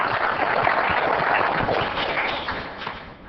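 A council meeting audience applauds Troop 712 with a dense patter of many hands clapping at once, steady and then slowly fading toward the end.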